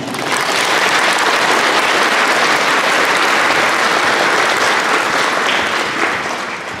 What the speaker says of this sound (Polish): Poproszę o brawo za nich